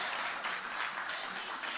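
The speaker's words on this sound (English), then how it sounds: "Let's give him a hand clap of praise this morning." A church congregation claps hands in praise during a Sunday morning service, giving dense, steady applause from many people throughout.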